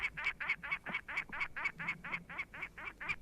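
A duck-like bird calls in a rapid regular series of about a dozen quacking notes, played back from a bird catalog disc recording of birds of France and Morocco, clear and evenly spaced.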